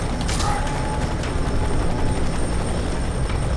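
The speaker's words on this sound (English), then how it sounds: "Yeah, helicopter." Helicopter in the shooter game FEAR 3, a steady loud mechanical rotor drone running through the whole stretch with faint clicking, alone without talk.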